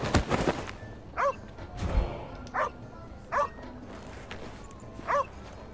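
A dog in a video game gives four short yelping whimpers, spaced about a second apart, between dull thuds of being hit. The dog sounds moderately close over a low background.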